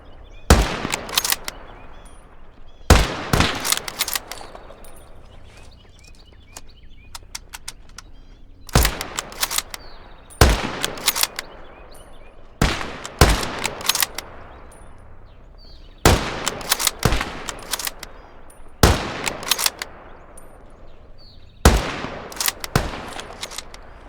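Soldiers fire at targets in the video game Call to Arms Gates of Hell, with sharp rifle shots sounding singly and in quick pairs at regular intervals, each crack ringing out against a quiet background.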